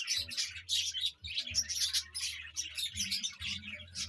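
Pet birds in a home aviary chirping and tweeting: busy, overlapping high calls repeating steadily, close and fairly clear, with low background rumble and no talking.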